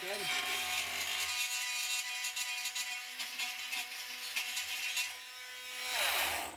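A power tool grinds a small raised lump down on a BMW E31 headlight part fitted with main beams. A steady high whine holds for about six seconds and rises briefly near the end before stopping.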